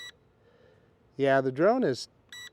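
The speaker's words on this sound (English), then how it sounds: "that beep tells me that I'm disconnected" A WeFone WF40 GPS drone controller gives a short beep warning that the drone has disconnected. The tone starts and stops abruptly around a brief stretch of nearby talk.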